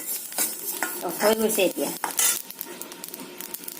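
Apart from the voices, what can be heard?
spices being dry-roasted and stirred in a pan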